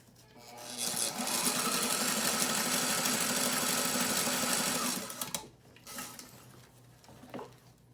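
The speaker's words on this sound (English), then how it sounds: "I'm going to zigzag stitch." A sewing machine zigzag stitching a strap onto a homemade fabric face mask, a steady fast whirring drone for about four seconds that stops abruptly, followed by a few small clicks and handling sounds.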